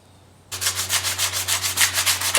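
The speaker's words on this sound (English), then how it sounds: "Right now I'm just sanding the liners, by the way." Steady rhythmic sanding strokes on steel folding-knife liners, a rasping scrape repeating about twice a second over a constant low motor hum, close and fairly loud.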